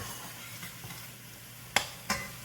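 Vegetables for Manhattan clam chowder being stirred in a pot over medium-high heat give a low, soft sizzle, then two sharp knocks of the spoon against the pot, close and quiet.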